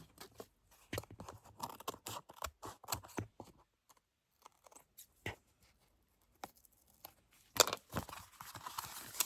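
Scissors trim the edge of paper while a journal is being assembled, producing soft, quick snips and crinkly paper rustles in scattered bursts, quiet and close with no speech.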